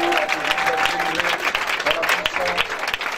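A church congregation at a Sunday evening deliverance service bursts into sustained applause and cheering, a dense, steady wash of clapping with scattered voices shouting throughout.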